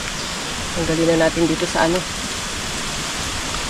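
Steady rain hisses evenly throughout, with someone speaking briefly in the middle over the downpour.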